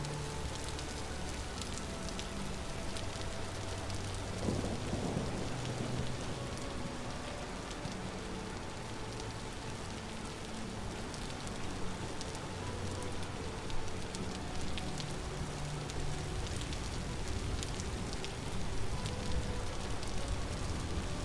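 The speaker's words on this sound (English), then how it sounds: "Now I'm in the storm." Steady rain falling on surfaces during a thunderstorm in the survival video game Vintage Story, a continuous wash of patter with low rumbling underneath, constant and fairly loud throughout with no talking.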